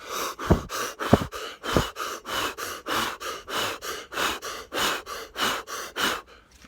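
A person imitates a rapid breathing exercise with fast, forceful rhythmic breaths, about three per second in an even pulsing series, close and clear, with a few sniff-like bursts early on.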